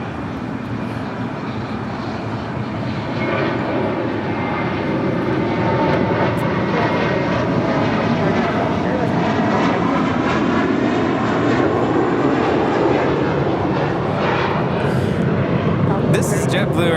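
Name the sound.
airliner departing from LAX runway 25 left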